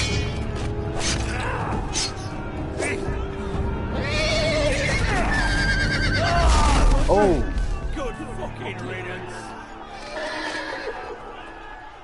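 A horse neighs and whinnies in the middle of a chaotic game scene, with a rising whinny standing out around the midpoint amid crashes and commotion, while people exclaim loudly over it.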